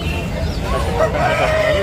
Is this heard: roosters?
yes